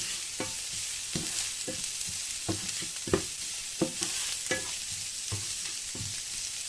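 Carrots and other vegetables fry in a pan with a continuous soft sizzle, punctuated roughly every half second to second by sharp scraping clicks of a spatula stirring against the pan, with no voices.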